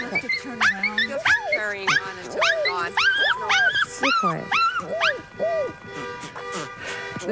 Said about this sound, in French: pousse des aboiements tellement aigus qu'il déclenche les alarmes de voiture